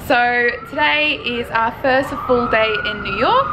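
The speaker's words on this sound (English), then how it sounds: "You can probably hear all the sirens outside." A wailing siren on New York City streets rises and falls in the background beneath a person talking close by, the pitch sweeping upward near the end.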